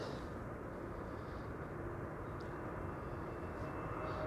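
An EasyJet airliner arrives from Bristol at Amsterdam Schiphol, its engines a faint, distant, steady rumble and hiss with no one speaking.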